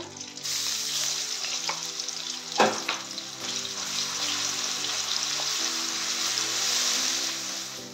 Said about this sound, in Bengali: রসুনটাকে আমি ভালো করে ভেজে নিয়েছি।